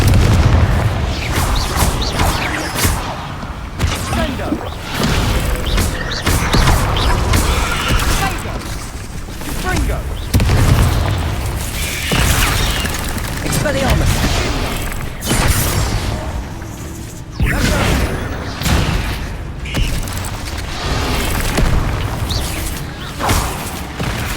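Incendio and Confringo spells in the Hogwarts Legacy video game blast again and again, giving loud booms and fiery bursts in a dense barrage, with a voice heard at times.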